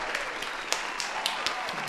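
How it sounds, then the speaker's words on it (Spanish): Brief round of applause, a small group clapping steadily with a few sharper individual claps standing out, at moderate loudness. "un aplauso para Flan."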